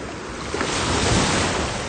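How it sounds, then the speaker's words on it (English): Ocean waves at Scarborough Beach, Australia, heard while someone wades through the water, a loud, continuous wash of surf with wind buffeting the microphone. "I'm walking in the water right now"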